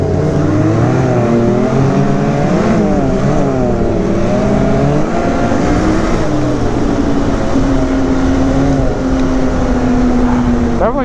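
Ski-Doo 900 ACE Turbo snowmobile running under way, a loud steady engine drone whose pitch rises and falls with the throttle, with a rider talking over it.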